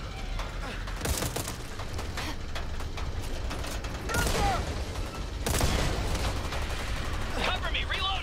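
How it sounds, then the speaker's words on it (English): Gunfire in the zombie shooter video game Back 4 Blood, repeated bursts and single shots with mechanical weapon clatter amid game noise, with occasional players' voices. "They were shooting me."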